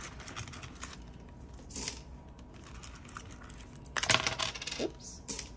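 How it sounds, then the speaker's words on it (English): Coins are poured into a coin jar, giving a string of small metallic clinks and jingles with a few louder clattering bursts, close by and without any talk. "I'm just gonna take out these coins and put it in the coin jar"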